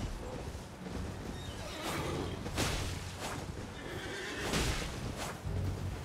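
Horse whinnies and neighs in the video game Elden Ring, with several loud, fairly close calls and a clip-clop of hooves in a busy mix of game sounds.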